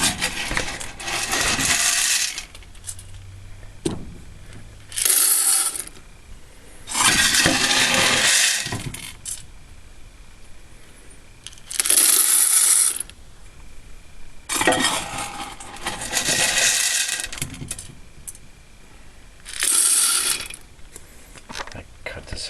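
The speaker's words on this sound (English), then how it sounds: "Okay, I filled up the bean container with the beans." Green coffee beans scooped and poured into the bean container of a prototype gas-converted 2 lb fluid bed coffee roaster, heard as several loud rattling bursts a few seconds long, separated by quieter pauses.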